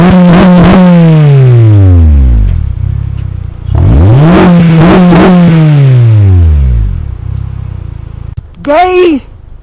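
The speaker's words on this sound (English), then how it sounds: "Hold up, rev it again." A Honda Civic Si engine revs hard twice, each loud, close rev climbing steeply and then sliding back down. A brief shorter blip follows at the end.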